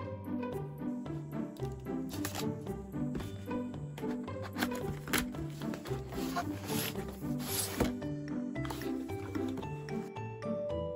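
Packaging is opened to unbox a GeForce GTX 1630 graphics card, giving close, continuous rustling, crinkling and sliding sounds for the whole stretch. Faint speech may sit underneath.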